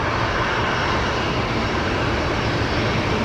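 A Qantas Boeing 737 airliner powers up for takeoff at Brisbane Airport at night, and its engines make a loud, steady roar that fills the whole clip with no voices.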